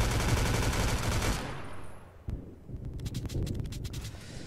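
Dense automatic gunfire in the Roblox shooter Oof Brigade, a loud continuous burst for over a second, then a lull broken by scattered sharp shots and another rattling volley.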